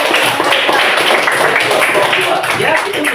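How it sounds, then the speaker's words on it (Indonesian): Students in a classroom burst into loud, close applause, a dense and continuous wash of many clapping hands lasting a few seconds. "Ya, tepuk tangan, betul sekali."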